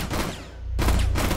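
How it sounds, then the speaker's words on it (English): Gunfire in Rainbow Six Siege on the Kanal map as a player shoots at Alibi's hologram: a loud burst of rapid shots, a brief gap, then another sharp volley. "Oh, I shot her hologram."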